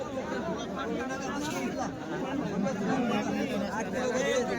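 Dense crowd chatter fills a busy weekly goat market in Chalisgaon, Maharashtra, with many overlapping voices babbling close by at a steady, loud level throughout.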